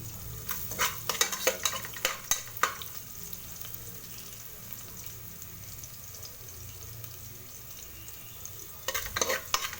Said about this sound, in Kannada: ಅದಕ್ಕೆ ಕುಕ್ಕರಲ್ಲೇ ಒಗ್ಗರಣೆ ಮಾಡ್ತಾಯಿದ್ದೀನಿ